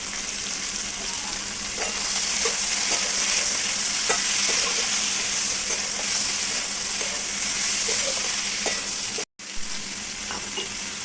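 Dry red chillies and cumin frying in oil for a sweet-sour mango pickle, a constant close sizzle with light stirring ticks scattered through, cut by a brief dropout near the end.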